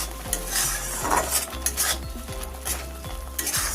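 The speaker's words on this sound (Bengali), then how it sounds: "আমি এরকম হালকা হাতে নাড়াচাড়া করে গাজরের রসটা শুকনো করে নেব।" Grated carrot simmering down in a pan for a sweet, stirred gently with a spatula: soft rhythmic scrapes over a low bubbling sizzle, close up with no voices.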